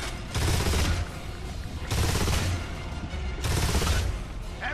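Heavy automatic gunfire from the video game Gears of War 2 rattles in three loud, sustained bursts separated by short pauses.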